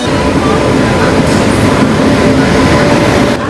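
A Tejas Express train on the Konkan Railway rumbles steadily close by, a dense, continuous roar of wheels and carriages with no pauses, loud throughout.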